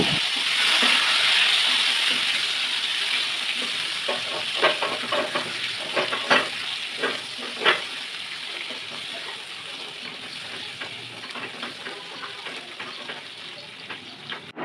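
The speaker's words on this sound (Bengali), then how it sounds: "তারপর কড়াইতে তেল দিয়ে মেথি ফোড়ন দিয়ে সবজিগুলোকে দিয়ে কিছুক্ষণ ভেজে নেব।" Vegetables sizzling loudly in oil in a wok after fenugreek seeds are tempered, with a rushing hiss that gradually eases and a series of stirring scrapes and taps in the middle, no voices.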